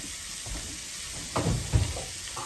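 Chopped dry shallot and small pieces of garlic flower sizzling gently in olive oil over moderate heat, with a couple of louder scrapes and stirring clatters of a utensil in the pan.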